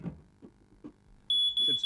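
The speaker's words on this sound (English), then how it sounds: "we hadn't checked one of these alarms with real smoke" A smoke alarm set off by real smoke starts a loud, steady high-pitched electronic beep partway through, with a brief break, after some low handling noises.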